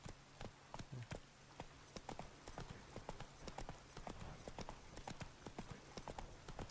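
A horse's hooves clip-clop at a steady trot in a video game, an even, close, rhythmic patter of hoofbeats over faint game ambience.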